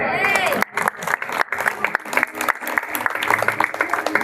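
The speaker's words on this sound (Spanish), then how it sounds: "Dale un fuerte aplauso a él." A church congregation breaks into strong applause after a sermon prompt, dense clapping with scattered voices and a cheer, steady and close for the whole stretch.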